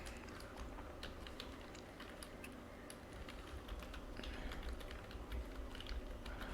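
C code is typed on a computer keyboard in rapid, faint, continuous clicks, set back under a steady background hiss.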